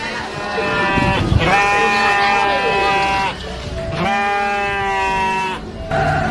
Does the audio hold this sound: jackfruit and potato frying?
no